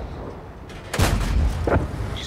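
A tank gun on the Hotchkiss EBR light tank firing in World of Tanks, with one loud, booming shot followed by a second, quicker report, both standing out over low engine rumble.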